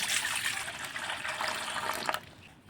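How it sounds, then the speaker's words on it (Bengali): Water poured from a container into a bowl in a kitchen, set out for brining cut mangoes for pickle; a steady close splashing pour runs throughout, then tapers off near the end. "একটা বাটি বাটির মধ্যে কিন্তু একটু জল দিয়ে দেবো"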